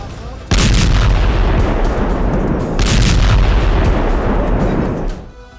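Heavy gunfire and artillery near Al-Quds hospital in Gaza, a loud, sustained barrage of booming blasts and rumbling bursts with almost no let-up, ending in a fading tail.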